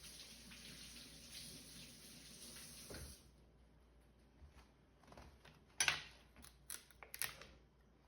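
Kitchen tap water runs steadily over a celery stalk as it is washed for a tuna salad, then cuts off, leaving a few light clinks and handling noises nearby.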